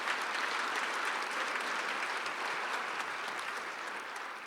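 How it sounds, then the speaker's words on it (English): A large audience at a Chicago leadership prayer breakfast applauds in a dense, sustained wash of clapping that holds steady and tapers slightly at the end, with no speech. "So could I get a round of applause for Kim and Terry?"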